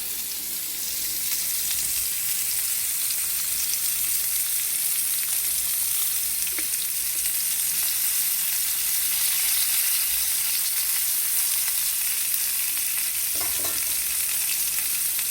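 Burger patties fry in oil in a pan, giving a loud, steady crackling sizzle close by that runs throughout, broken by a couple of faint utensil scrapes, with no talking.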